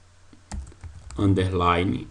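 Quick keyboard clicks from typing a Linux terminal command, the mkdir command that creates a new folder, come close and distinct, followed by a voice speaking.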